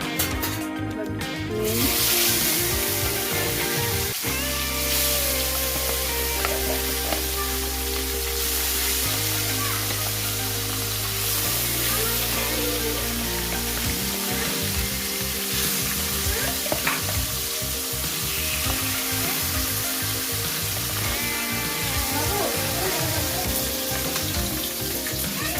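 Pieces of fresh snakehead fish fry in hot oil, a steady loud sizzle and bubbling that runs throughout, close up, with a low steady hum under part of it and no speech.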